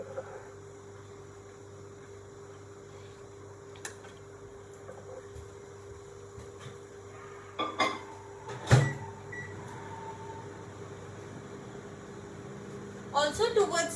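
A microwave oven heats a butter mixture with a steady, low hum running throughout, broken by a few faint clicks and kitchen handling noises near the end.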